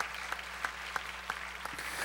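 Applause from a church congregation during a sermon, a faint, even wash of clapping with a few sharper claps standing out at regular intervals.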